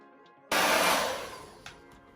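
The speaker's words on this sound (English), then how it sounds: "So we're gonna use our Diva Curl blow dryer." A Diva Curl hair dryer switches on abruptly and blows with a loud, steady rushing roar, easing slightly as it keeps running.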